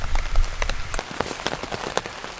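Rain patters on a campsite while camping on Canada Day, many close, crisp drops tapping in an irregular rhythm with a brief low rumble at the start.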